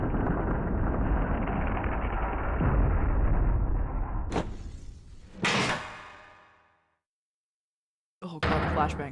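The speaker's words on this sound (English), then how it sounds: "Oh god, flashbang." A loud flashbang bursts in The Great Ace Attorney Chronicles video game, a sharp blast that cuts off an ongoing rumble and rings out, followed by another abrupt burst and silence.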